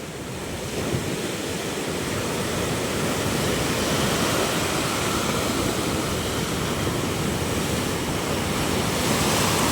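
Strong sea waves crash continuously onto a shore where rotting wood and driftwood lie, a dense, loud, steady roar of surf with gusting wind noise and no break through the whole stretch.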